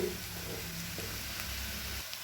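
Poppy seed paste and onion frying in a pan for a poppy seed potato dish, giving a steady, soft sizzle that runs unbroken and fairly quiet throughout.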